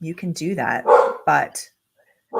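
A dog barks in a home setting while someone talks over it. A few short barks and yips are mixed with her speech, followed by a brief silence and then one more bark.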